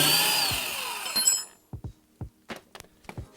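Impact gun loosening a 17mm nut on a Honda Integra subframe lower arm, a loud buzzing burst that fades out, followed by several sharp metallic clinks of tools and parts close by.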